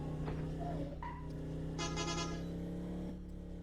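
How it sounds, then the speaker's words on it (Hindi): A car horn honks a couple of times over a steady engine hum in the game Indian Bike Driving 3D, fairly close and moderately loud, with a synthetic, game-like tone. "तो साहब को ये हॉर्न बजा के आवाज़ देता है, साहब आ जाइए।"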